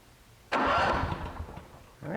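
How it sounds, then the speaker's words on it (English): A Honda generator that sat for years with bad fuel, its engine cranking over with a sudden loud rasping pull after a quiet moment, then a second pull starting near the end. "All right, so we're going to try to crank it over."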